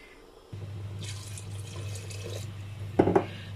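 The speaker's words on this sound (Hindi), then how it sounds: "2 कप पानी ऐड करूँगी।" Water is poured into a cooking pot of daal mash, a steady soft pouring rush over a low hum, ending with a couple of clunks.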